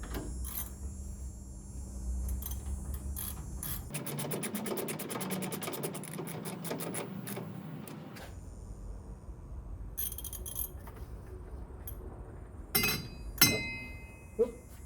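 Tightening the original hardware on a 1937 Plymouth coupe's shock absorber, with a steady ratchet clicking for several seconds amid metallic clinks and scraping, ending in a few sharper knocks, close by with no voices.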